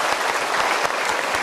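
Studio audience at an Indonesian motivational talk show bursts into steady, dense applause, loud and continuous from start to finish without a break.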